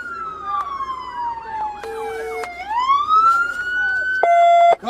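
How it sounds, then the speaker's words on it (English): Police sirens wail and yelp loudly nearby at a school lockdown, rising and falling sweeps shifting between patterns with a constant vehicle rumble underneath. "Cut them sirens."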